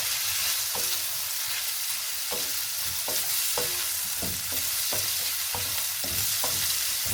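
Shrimp fry and get stirred in a hot pan, a constant loud sizzle broken by regular scraping strokes of a utensil, close up with no voices.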